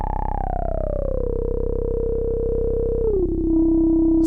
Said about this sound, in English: Two resonant peaks there.